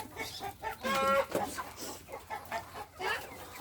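Adult laying hens cluck in a farmyard, a busy mix of short clucks and calls at moderate distance, with a brief squawking burst among them.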